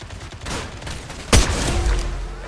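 Gunfire in the video game Fortnite Ballistic, a sharp loud shot bursting out midway over a steady background of game ambience.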